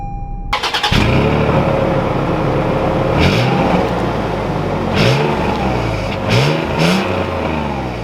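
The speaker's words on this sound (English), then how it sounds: "let's take this Venture out and see how it drives." A 2021 Toyota 4Runner Venture engine starts abruptly, then revs loudly and accelerates in several rising surges, close and continuous.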